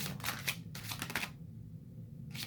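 Tarot cards shuffled by hand, close and soft, in two quick riffling bursts followed by a pause and a brief third burst.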